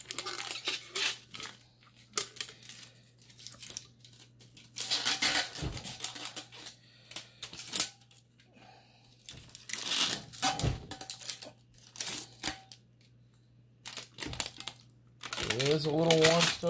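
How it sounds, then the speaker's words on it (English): Plastic label being peeled and crinkled off a freshly made tumbler, still slightly warm, in crackling, crumpling bursts with short pauses, close up under a steady low hum. "it does have the kind of peel label part, so it makes it a little bit easier to peel it."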